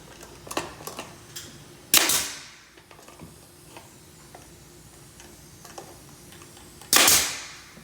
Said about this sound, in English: I like to shoot right into that joint right there, to the angle, and that gives me a very little footprint of my nails.